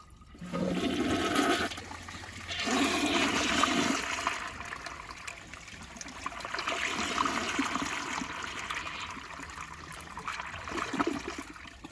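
A Jacuzzi Perfecta toilet flushes with a loud rushing surge of water, then a long, steady gurgling rinse and trickle into the bowl that keeps going close by without any talking.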